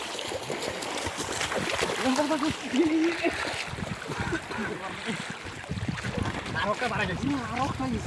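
Rushing, splashing floodwater flows fast and continuously over a submerged road beneath a voice speaking close by.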